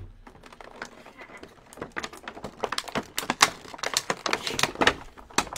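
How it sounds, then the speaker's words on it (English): Packaging from a birthday gift crinkles close up during unboxing, with a quick, irregular run of crackles and snaps that grows busier and louder toward the end. "The microphone will pick up nothing but crinkling noises for the next 5 minutes."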